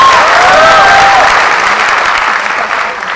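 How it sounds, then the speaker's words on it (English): An audience at a gaming industry talk applauds loudly and continuously, with crowd noise and a few whistles, fading slightly toward the end. "So give her a big cheer, I'm sure she'd appreciate that."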